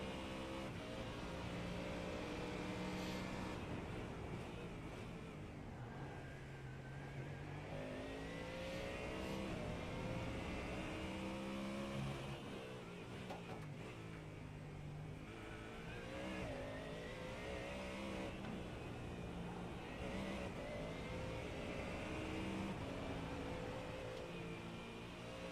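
Ford Mustang race car at a street circuit in Chicago, heard onboard as a continuous loud engine roar whose pitch climbs and falls repeatedly with throttle changes and gear shifts through the lap.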